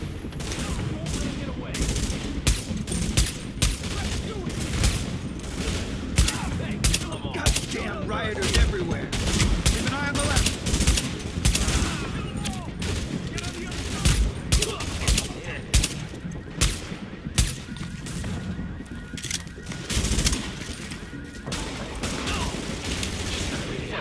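Sustained gunfire in a shootout in The Division video game, with rapid bursts of automatic fire and overlapping shots continuing densely throughout, loud and close, with occasional voices calling out underneath.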